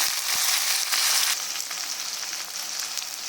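Onion, green chili, curry leaves and mint frying in hot oil, a steady dense sizzle that stays loud and close for the whole stretch, with a couple of soft knocks early on.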